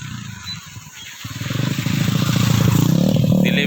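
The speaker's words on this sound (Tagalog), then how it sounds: "Paka-paka. Motor." Motorcycle passing on a village road, its engine note rising from faint to a loud, steady drone as it draws near, with no talk over it.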